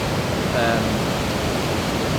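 A waterfall roars as a dense, steady broadband rush, loud and close, with no break.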